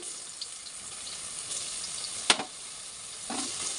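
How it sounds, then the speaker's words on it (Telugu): Ginger garlic paste fries in oil, giving a steady, fairly quiet sizzling hiss throughout, with a single sharp clink of a utensil midway. "అల్లం వెల్లుల్లి పేస్ట్ మంచిగా ఫ్రై చేసుకోవాలి"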